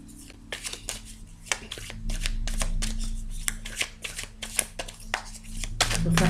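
A deck of oracle cards is shuffled close by in repeated quick riffling bursts over several seconds, with a voice speaking between and over the shuffles.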